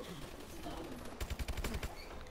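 Rapid bursts of automatic gunfire in a shooter video game rattle in a quick series of sharp shots after a steady low background rumble, moderately loud and with no voice over it.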